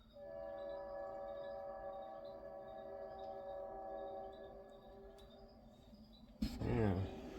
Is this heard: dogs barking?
no